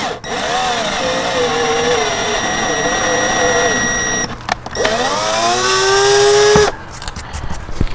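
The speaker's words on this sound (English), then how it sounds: "So I'm just using a drill on low speed to do my taps." A drill running at low speed drives an M4x7 tap into holes for a DRO fitted to a Vevor 8x14 mini lathe, producing a close, steady motor whine that pauses and restarts with a rising pitch.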